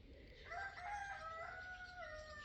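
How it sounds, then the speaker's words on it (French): A rooster crows once in the early morning countryside, a clear, drawn-out call at moderate distance rising and holding for about two seconds over faint outdoor ambience. "voilà, Monsieur le coq"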